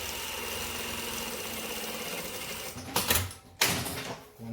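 A sewing machine runs a single stay stitch along fabric pocket bags, a steady close mechanical whir that holds for a few seconds before breaking into short louder bursts and stops.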